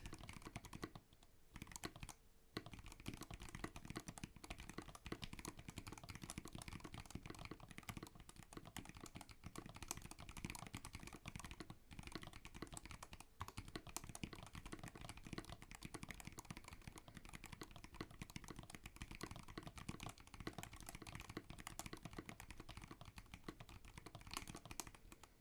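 Steady typing on a lubed Discipline 65% mechanical keyboard, soft rapid keystrokes running continuously at a low, even level, with brief pauses near the start.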